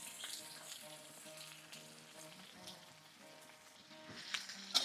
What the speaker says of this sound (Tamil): இதை நல்லா கொஞ்சம் வதக்கலாங்க.